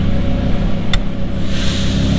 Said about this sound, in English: fire up and warm up the car.